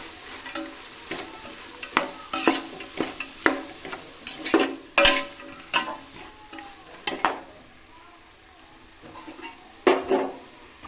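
A pan of vegetable palaw with turmeric is stirred with a spoon, giving a run of close, scraping and clattering strokes in irregular bursts over a soft sizzle, with no voices.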